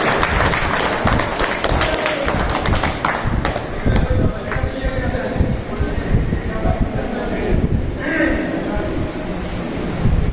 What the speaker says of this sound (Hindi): तालियां बजा के इन्हां दा स्वागत करांगे